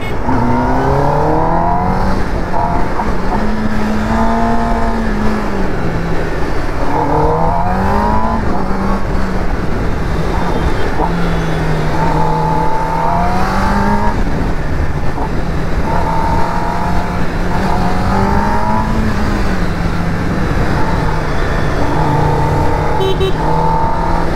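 A loud, continuous superbike exhaust drones and rises through the gears at a college auto meet, revving up and easing off repeatedly as the bike rides along.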